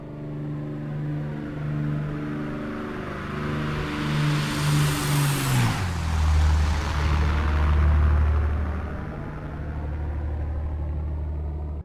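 A Supermarine Spitfire's Merlin piston engine in Microsoft Flight Simulator roars loudly and steadily, its pitch sweeping through a clear Doppler shift as the fighter passes close by, then droning on lower afterward, with no talk.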